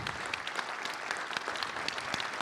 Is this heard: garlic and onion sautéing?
no